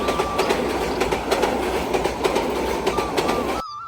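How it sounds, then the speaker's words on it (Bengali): A train passes close by near Sitakunda, its wheels giving a loud steady rumble with rhythmic clickety-clack beats and a faint squeal, cutting off abruptly near the end. "হঠাৎ করে একটা ট্রেন চলে আসলো"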